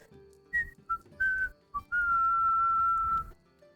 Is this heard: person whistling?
yes